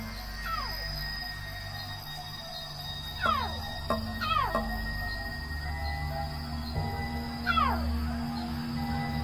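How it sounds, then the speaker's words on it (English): Wild lion cub calls in the African bush. High, falling whimpering cries come in short clusters over a steady outdoor hum, moderately close, with no voices over them. "That's Katswiri's cry."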